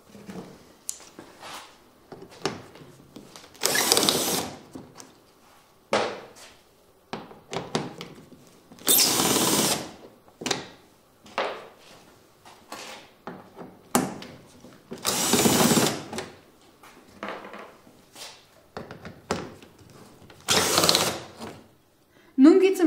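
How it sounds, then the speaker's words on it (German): A power tool with an 8 mm socket spins bolts out of a BMW E87 front bumper in several loud whirring bursts, separated by quieter gaps with small knocks and handling sounds. "Als nächstes die 7 Schrauben mit einer Achternuss rausschrauben."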